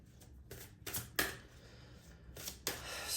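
Tarot cards are drawn and laid out, making several short, crisp papery slaps and swishes spaced irregularly against a quiet room background.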